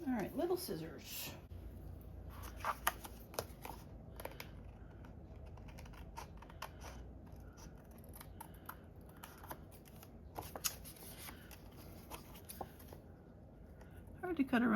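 Small scissors snip around a curve through paper ephemera cut from faux tie-dye watercolor cards, giving quiet, close, irregular clicks and crisp cuts over a faint background hush.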